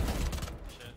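Gunfire in the tactical shooter Valorant, a quick burst of several sharp shots close together, fairly faint, fading out after the first half second.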